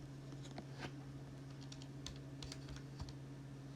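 Numbers being typed on a computer keyboard, a short run of quiet, close key taps spaced irregularly over a steady low hum.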